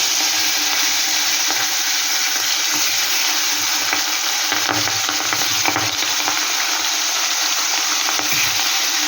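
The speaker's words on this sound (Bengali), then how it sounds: "এবার আমি এক এক করে কাটাগুলো আমি ভেজে নেব।" Vetki fish bones, rubbed with salt and turmeric, fry in hot oil with a loud, steady, dense sizzle that runs throughout, with faint stirring scrapes now and then.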